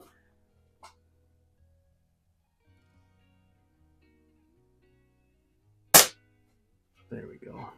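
Two sharp reports from an Air Venturi Comp10 10-meter air pistol, one faint early snap and a louder crisp shot near the end, with quiet room sound between and a brief voice at the close.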